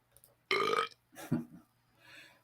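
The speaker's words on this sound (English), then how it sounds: "Human burp 5." Stock library sound effect of a human burp: a loud, voiced belch lasting under half a second, then a rougher, gurgling second burp and a faint breathy tail, with nothing else behind it.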